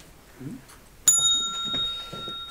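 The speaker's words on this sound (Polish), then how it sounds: "To zaczynamy też dzwoneczkiem." A small hand bell rings once, clear and close, to open a 2014 mayoral candidates' debate, its bright tone lingering as faint voices murmur softly around it.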